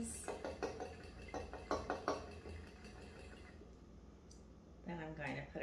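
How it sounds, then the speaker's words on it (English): Egg being mixed with zucchini and onions in a bowl: a run of light clinking and tapping utensil strokes against the dish, quieting midway, then a voice speaking briefly near the end. "So I'm gonna mix up my egg with my zucchini and onions."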